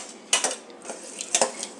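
A spoon mashing cooked rice in a metal pot for paal payasam, sharp scraping clinks and knocks in two short bursts, close and loud with quiet gaps between.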